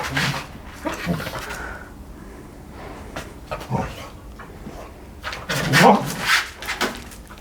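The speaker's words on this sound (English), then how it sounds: "My dogs have decided to have a fight while I'm doing this." Dogs scuffling with yelps and sharp barks in intermittent bursts, loudest near the end, with quiet gaps between.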